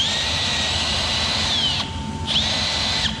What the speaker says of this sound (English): So this one we're going to drill a number 7 drill bit.